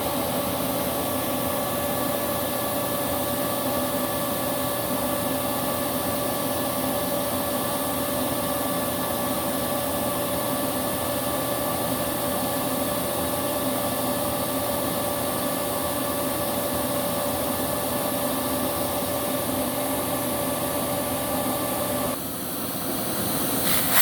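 Nacecare RSV 130 backpack vacuum running continuously with a steady broadband rush of airflow and a faint whine, unchanging for over twenty seconds before a slight shift near the end.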